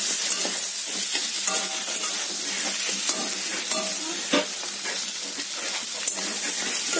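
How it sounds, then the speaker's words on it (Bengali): Spices and a fish head being stirred and sautéed in a pan for a Bengali mung dal, with a steady loud sizzle and frying crackle plus intermittent scraping of the spoon against the pan, no talk. "এবার এটা ভালো করে একটু কষিয়ে নেব।"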